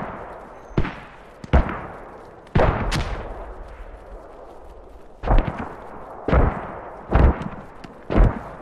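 Gunfire in the tactical shooter Squad during urban house-to-house fighting in Al Basrah: about eight sharp, loud shots at irregular intervals, each cracking out with a short echoing tail against a quiet background.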